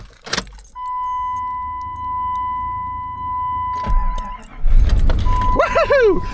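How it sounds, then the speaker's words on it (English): A car in snowy Wyoming winter cold: a steady electronic chime, then the starter cranks and the engine catches with a loud roar, followed by a brief rising squeal. "Now, there should be no reason that my car will not start."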